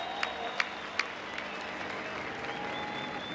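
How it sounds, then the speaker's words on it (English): A crowd applauds steadily in a dense wash of clapping at a Formula Drift event in Long Beach, with a few sharper claps standing out near the start; sustained and fairly loud. "Thumbs up, round of applause for Matt, the Beast from the Bay Field."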